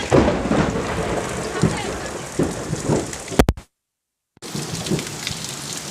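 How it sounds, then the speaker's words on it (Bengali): Heavy rain falling during a nighttime thunderstorm in a town, a steady loud hiss with low rumbling swells, cut by a sudden dropout before the downpour resumes. "মেঘ ডাকছে এখন"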